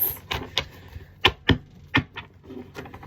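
Large oversized tarot cards being shuffled by hand, a string of sharp papery riffles and slaps, some bursts close and crisp, with short quiet gaps between them and no voices.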